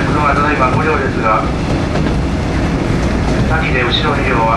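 KiHa 58 diesel train running on rails, a steady rumbling roar with faint clickety-clack heard from inside the carriage, continuous and loud under a train conductor's announcement.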